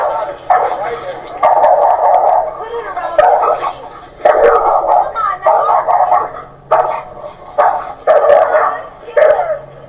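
A leashed dog barks and yips repeatedly in close, loud bursts, mixed with whimpers, while people talk over and between the barks.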